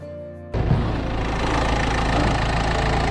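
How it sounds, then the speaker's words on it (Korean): After a brief quiet hum, the engine of a used imported car starts and settles into a steady idle, a close, continuous mechanical rumble with a faint knocking texture, a normal engine sound. "정상적인 엔진 소음이라고 판단하시면 될 것 같고요"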